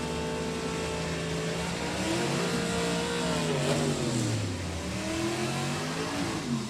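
Super stock drag race cars, among them an automatic Barracuda, roll toward the starting line at a drag strip. A loud engine drone rises and falls in pitch as the revs change.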